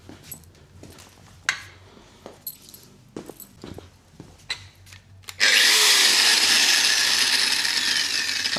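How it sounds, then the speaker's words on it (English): An angle grinder spins up and runs loud and steady for several seconds after a few scattered mechanical clicks and knocks, cutting at a scrap fan held by a split pin. "Let me get my grinder."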